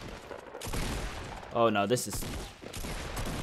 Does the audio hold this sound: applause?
no